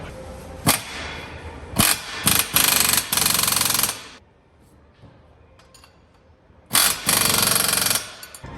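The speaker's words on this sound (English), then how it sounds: "I'll go get the impact on a spanner or a wrench and tighten it until it doesn't turn anymore" An impact wrench tightens bolts on a Toyota MK4 Supra differential during a Tomei limited-slip install, several loud rattling bursts near and clear, separated by quieter gaps.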